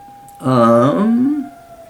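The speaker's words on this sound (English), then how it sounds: "Fuck you, siren." An emergency vehicle siren sounds outside at night in a small city, a steady distant tone that swells into a louder, wavering wail for about a second before fading back.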